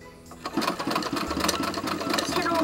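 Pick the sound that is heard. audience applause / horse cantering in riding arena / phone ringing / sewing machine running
sewing machine running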